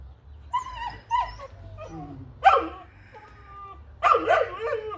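A puppy named Magnum gives several short, high yips and barks in quick bursts, close by, with whimpery tones between them and no talking.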